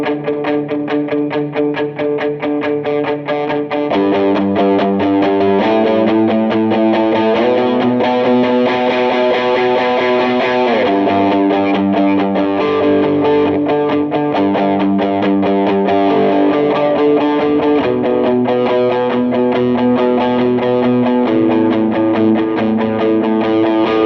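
Distorted electric guitar playing the rhythm part of a song at full tempo, thick and saturated with effects, loud and continuous throughout with steady strummed chords and no talking.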